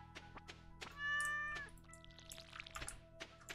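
A cat meows in the video game Stardew Valley, one clear rising-falling meow over soft game music and scattered clicks and chimes.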